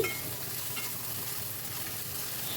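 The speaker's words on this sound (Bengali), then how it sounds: "এবার ওই তেলে আমি দিয়ে দিচ্ছি হাফ টেবিল চামচ মতো পাঁচ ফোড়ন আর দিয়ে দিচ্ছি এক টেবিল চামচ আদা বাটা দিয়ে একটু নাড়াচাড়া করে নিচ্ছি" Five-spice seeds and ginger paste frying in hot oil make a dense, constant sizzle, loud and close, while the mixture is gently stirred, with no speech.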